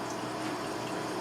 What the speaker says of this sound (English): this is a nice, steady, perfect drip around all the seedlings